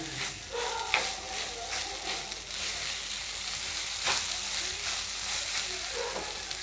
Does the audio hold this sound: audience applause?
no